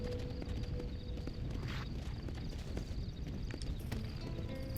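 Horse hooves in the Western video game Red Dead Redemption, a steady run of clip-clop beats over a dense rumbling ground noise, continuous and moderately loud with no talk.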